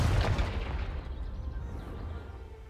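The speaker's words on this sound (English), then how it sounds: "Confringo!" The Confringo fire spell from the video game Hogwarts Legacy blasts in a single loud, close boom that rolls into a fading rumble.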